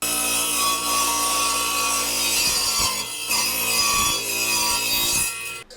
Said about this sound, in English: I need to take it over to the cutoff saw and cut it